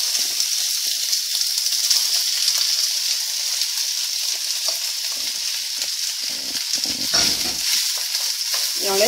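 Browned beef and freshly added onions fry in a hot pan with ginger, giving off a steady, loud, dense sizzle with a few soft stirring noises and no voices.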